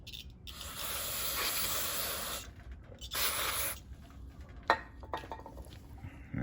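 A lawnmower carburetor float from a Kohler XT675 engine is rinsed off with a spray, giving short bursts of hissing spray separated by pauses, then faint clinks of handling parts.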